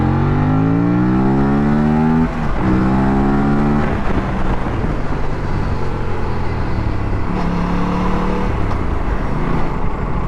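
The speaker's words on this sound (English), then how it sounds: "this parallel twin motor, it feels really nice. It sounds good, it pulls really well" An Aprilia RS457's parallel twin engine hums under riding, its tone climbing through the revs, dropping briefly at a shift, then pulling up again, loud and close throughout.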